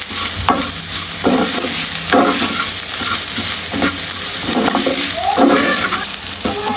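Dried shrimp and black cumin seeds fry with a steady sizzle in a pan while a utensil scrapes and stirs in repeated strokes, close and continuous with no talking.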